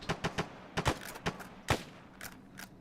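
Gunfire from a Falklands campaign video game mission: a series of sharp, separate shots in uneven bursts, some in quick pairs, fairly faint and distant-sounding, with no voices.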